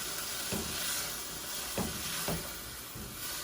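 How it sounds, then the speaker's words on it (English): Chopped vegetables for a vegetable lasagna stirred in a pan, a steady frying sizzle underneath with a few soft scraping thumps of the spoon spaced through it, fairly quiet and close, with no talking. "And then give it a stir."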